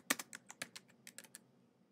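A computer keyboard is tapped in a short run of roughly ten crisp, close keystrokes with an uneven rhythm, quiet and with no voices.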